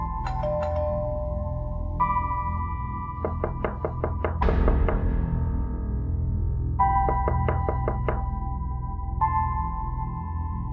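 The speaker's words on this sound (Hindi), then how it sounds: "दरवाजा बज रहा है" Someone knocks on a door in a TV drama scene. Two separate bursts of quick, sharp raps sound clearly over steady background music, and nobody speaks.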